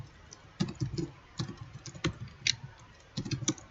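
Keys clatter on a computer keyboard in short irregular bursts of clicks, close and moderately loud, with brief pauses between runs while someone types the name of a circular water tank capacity calculator.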